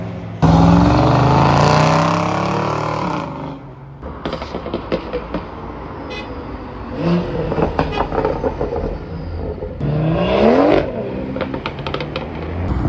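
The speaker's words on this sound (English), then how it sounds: "Belt squeaking" A car engine revs and idles up close, with a thin, squealing whine from the engine belt rising and falling over the motor's rumble.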